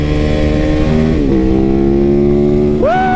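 A motorcycle engine revs hard and loud up close, the pitch sliding down as it settles and then jumping sharply at the end, with no talking.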